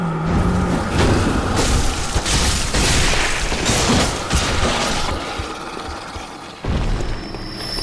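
An enemy in Bloodborne bursts apart on death: heavy booming, shattering crashes within a dense, loud stretch of game combat noise, with several impact bursts spread through it.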